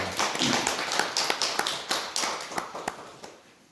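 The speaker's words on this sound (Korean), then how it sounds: "은혜로운 찬양 우리 한번 박수로 응원해 주시기 바랍니다" A church congregation claps after a hymn at a Sunday service, a dense patter of hands with sharper individual claps standing out, fading toward the end.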